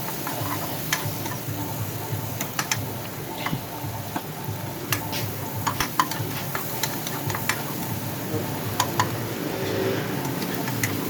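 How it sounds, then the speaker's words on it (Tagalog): Tomatoes sizzle softly in a pan while being cooked for an odong and sardine dish, a steady frying hiss broken by frequent light ticks and scrapes of stirring, with no talking. "Kaya na lang nating maluto yung kamatis mga boss bago natin ilagay yung sardinas"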